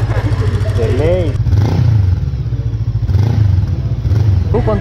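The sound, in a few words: motorcycle engine revving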